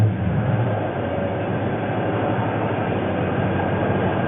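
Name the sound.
2009 Dodge Challenger 5.7L Hemi engine idling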